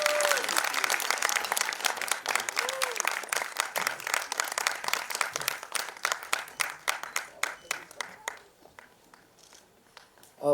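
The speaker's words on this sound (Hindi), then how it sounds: "Keep clapping till they get up on stage." A crowd at a song poster unveiling applauds loudly with dense clapping that thins into scattered claps and fades out near the end.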